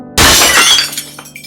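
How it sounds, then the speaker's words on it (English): Glass shatters in a sudden loud burst, a dense crash of breaking shards that rings out and scatters into smaller tinkling fragments as it fades. "I cleaved through his monitor face, glass shattering in a burst of static and sparks"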